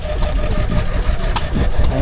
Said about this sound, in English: I never knew the Petta was a 2-stroke